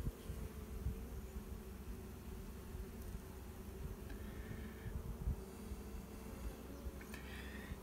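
Honey bees buzz steadily inside a newly built hive, a faint, continuous drone that holds low and even throughout, with no talk over it.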